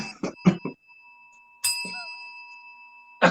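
A small bell rings once, bright and sustained, after brief talk; a voice cuts in midway over the lingering ring and speaks again at the end.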